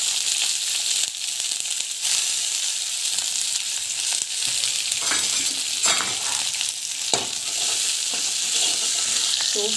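Onions frying in oil with cumin seeds give a soft, continuous high sizzle, heard up close with a few faint clicks and no talking.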